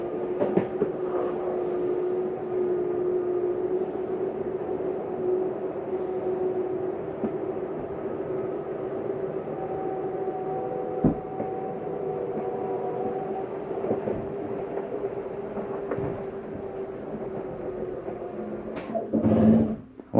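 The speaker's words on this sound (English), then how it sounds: "That's just the slide mechanism." A living room slide-out on a 2022 Jayco Pinnacle 36KPTS fifth-wheel RV retracting, giving a steady, continuous motor drone and mechanical hum that runs unbroken at moderate level, with a brief louder clunk near the end as it stops.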